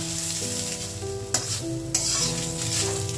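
An egg poaching in a frying pan gives a steady sizzle with a few brief louder pops and spits, close and alone without any talking.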